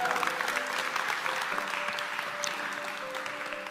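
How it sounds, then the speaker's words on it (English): A lecture audience claps for a true story, a sustained wash of many hands applauding together at moderate volume, slowly tapering toward the end. "Give him a clap, because it's a true story."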